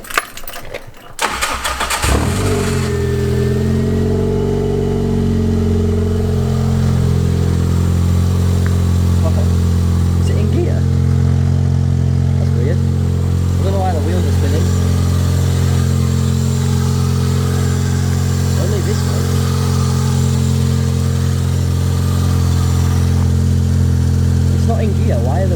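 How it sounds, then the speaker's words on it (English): The 4EFE engine of a 1998 Toyota Corolla cranks briefly, catches and settles into a steady, loud idle that runs on without stopping, with a few faint clicks over the hum. "I'm just going to start the car now and hopefully nothing explodes."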